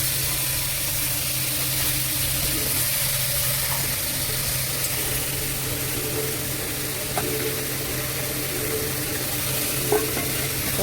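Chopped ash gourd frying in a pan, a soft continuous sizzle with occasional faint stirring clicks over a low steady kitchen hum, moderately close and without talk.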